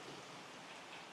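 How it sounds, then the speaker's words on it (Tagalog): Heavy typhoon rain in Siargao pours down as a dense, even hiss of drops hammering surfaces, steady and continuous with no voices over it. "Yan po kalakas ang ulan."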